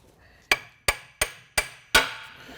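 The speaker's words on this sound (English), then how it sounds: "We'll install the bearing just like this. I've got my hammer here." Five sharp hammer blows drive a bearing into an Eaton Fuller FRO16210C ten-speed transmission, evenly spaced metallic strikes ringing out clearly with no speech.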